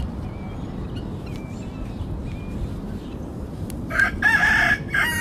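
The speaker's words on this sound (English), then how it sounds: "let's go find one of our other popular chickens. It is the Bantam, the Old English Bantam" An Old English Bantam rooster crows near the end after quiet background, with a few short clucks and chirps earlier; the crow is loud and close.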